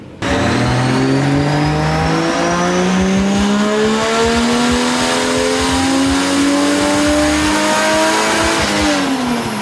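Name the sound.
turbo Toyota Supra engine revving hard during a power run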